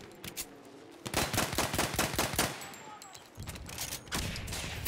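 Rapid bursts of gunfire from the video game Battlefield 1, several loud close volleys in quick succession with a brief lull before more shots, a faint voice partly under the firing.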